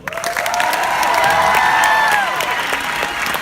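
An audience applauds at a high school music awards show, with dense sustained clapping throughout and faint voices and tones mixed in.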